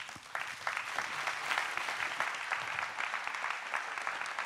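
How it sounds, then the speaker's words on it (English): A church congregation applauds, with quiet, scattered but continuous clapping from many hands that rises a little after the first moments and holds steady at a modest distance. "Let's give her a round of"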